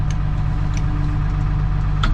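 A John Deere 6510 tractor engine runs at a steady low rumble, loud and close, with faint ticking over the constant drone and no talk.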